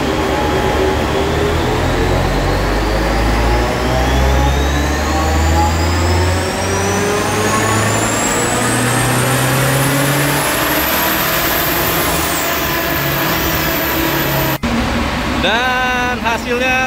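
BMW B48 engine revving hard on a dyno run, a loud sustained roar with pitch sweeping steadily upward, then an abrupt cut to idle with a short burble near the end.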